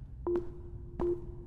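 Two short beeps of a phone busy tone sound at an even interval while a call fails to connect, heard fairly close over a low rumble.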